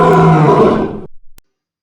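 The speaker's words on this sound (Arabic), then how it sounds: "زئير الأسد lion roar." A lion roars loudly and alone for about a second, then trails off into a few short grunting breaths before the clip falls silent.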